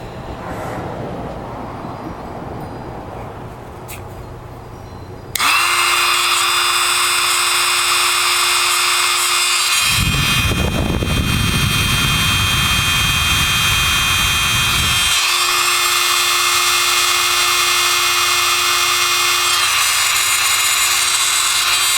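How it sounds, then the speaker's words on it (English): A Flextail Max rechargeable mini electric air pump switches on to inflate an inflatable, with a loud, steady mechanical drone, its pitch shifting partway through before settling back into the same constant hum. "you can start to blow up the inflatable here, and see what the difference in sound is on that one"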